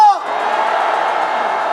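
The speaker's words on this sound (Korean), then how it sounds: "다시 한번 함성 부탁합니다" At an outdoor political rally in Daejeon, an amplified voice trails off and a big crowd answers with a loud, steady roar of shouting and whooping.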